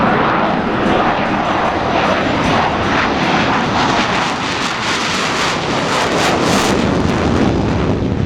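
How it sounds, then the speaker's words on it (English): A US Navy Blue Angels jet roars continuously as it accelerates through a low transition at the Rhode Island airshow at Quonset, a loud, broad jet-engine rush with wind buffeting throughout. "He'll execute a very precise low transition as he accelerates his aircraft to 300 miles per hour."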